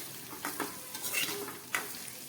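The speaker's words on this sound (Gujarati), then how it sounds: "હવે તેમાં આપણે કટ કરેલા મરચાં છે તેને નાખી દઈશું અને સારી રીતે મિક્સ કરી દઈશું." Chopped chillies are stirred into frying spices in a pan, giving a soft steady sizzle broken by several brief scraping strokes of a utensil against the pan, close and fairly quiet.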